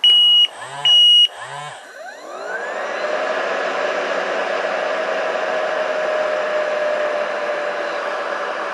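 A dust extractor fitted with its old main filter, heard after two short electronic beeps as the motor spins up and settles into a steady, fairly loud whirring drone that continues to the end.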